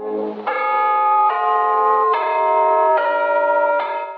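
Church bell ringing in a 1936 Merrie Melodies cartoon, bright harmonic bell tones struck in a steady sequence of about six rings, each sustaining into the next, loud and continuous with no talk.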